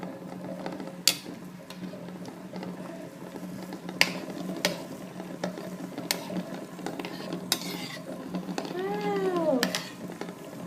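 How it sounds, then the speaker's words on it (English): A spoon stirs lemon oil in a small pan set inside a larger pan of boiling water, giving scattered scrapes and clinks over a steady low bubbling hum, with a brief rising-pitched squeak near the end. "So while it's boiling, from time to time I will just stir it."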